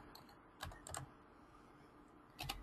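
Three short bursts of typing on a computer keyboard, entering a search term on a library website, separated by quiet pauses; soft and close, with no talking.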